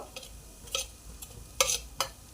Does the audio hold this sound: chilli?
yes